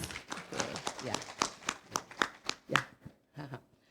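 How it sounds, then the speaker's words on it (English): A conference audience claps, a brief ripple of scattered applause with irregular hand claps that thins out toward the end, heard fairly close. "give applause please"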